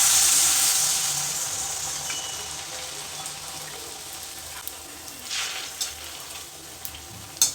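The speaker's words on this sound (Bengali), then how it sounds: "তেলে ব্যাটারটা দেওয়ার পরে উপর থেকে একটু তেলটা এইভাবে ছিটিয়ে দেবে" Malpua batter frying in hot refined oil, a steady close sizzle that starts loud and settles into a softer crackle, with a few sharper pops and spits toward the end.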